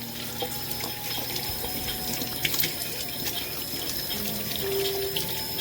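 Tap water runs steadily into a sink while glasses are washed, a continuous splashing stream with a few faint clinks and no talk.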